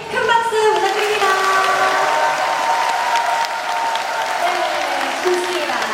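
A crowd at a summer talk event with a panda keeper breaks into loud, sustained applause, with a voice speaking over the clapping throughout.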